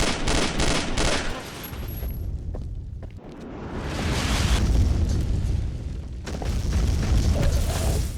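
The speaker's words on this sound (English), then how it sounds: "the base that we're at is just sustaining fire from the military" Explosions and heavy military gunfire pound a base in the 2007 video game Instinct, with booming blasts and rattling bursts rolling continuously, briefly thinning in the middle before surging loud again.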